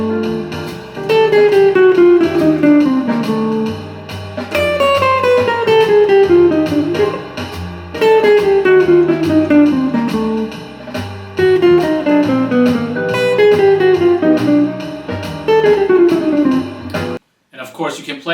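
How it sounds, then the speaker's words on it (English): A 10-note bop scale is played descending over a jazz tune, as repeated clear melodic runs sliding downward, several passes in a row, loud and close, ending in a brief pause and short noisy tail. "I've seen people call it 10-note Bop scale."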